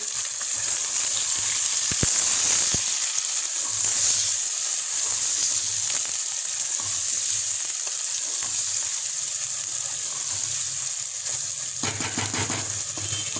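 Roughly chopped tomatoes sizzle steadily in a hot pan of chicken kachnar, a continuous bright frying hiss with a few brief clinks and scrapes, close and fairly loud, no talking.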